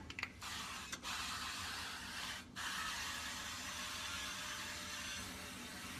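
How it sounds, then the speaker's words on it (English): Coconut oil spray hisses onto a pan in short bursts, with a brief spurt near the start and another around the middle over a steady, near background hiss. "We are going to spray that bad boy down with some coconut oil."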